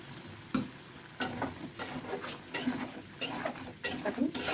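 Water poured into a pan of fried spices while cooking a winter-vegetable fish curry, giving a steady sizzle with repeated clinks and scrapes of a spoon against the pan, close and fairly soft.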